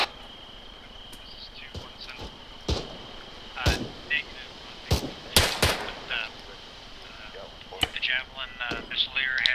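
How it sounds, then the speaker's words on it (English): Gunfire during a military field training exercise, with sharp single shots cracking at irregular intervals, some near and loud, others more distant, over a steady bed of insect chirping and occasional voices. "we're taking shots northwest"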